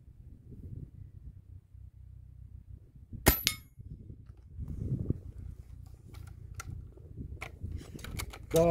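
A Hatsan Torpedo 155 air rifle fires once with a sharp, sudden crack and the pellet strikes a steel target, followed by a few faint ticks and clicks against quiet low handling noise.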